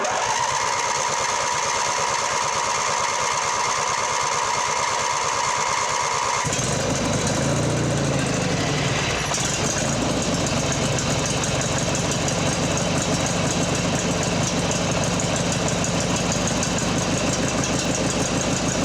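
A Mastercraft 46-inch riding mower with a swapped-in engine, fitted with exhaust and muffler, runs loud and close, its steady chugging drone rising in pitch after a few seconds and continuing without talk.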